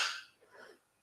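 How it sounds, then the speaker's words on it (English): A single sharp sneeze from a person with hay fever, a bright burst at the start followed by a fainter breathy tail, close to the microphone in a quiet room. "Unfortunately, I need to sneeze."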